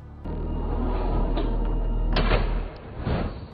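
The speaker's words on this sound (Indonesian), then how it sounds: "Matt ini mengetahui keberadaan si Rollins ini dari suara pintu yang tertutup." A door closes in a film scene with a low, sustained rumble underneath, then a sharp, loud knock-like thud around mid-clip followed by softer clunks, with no voices.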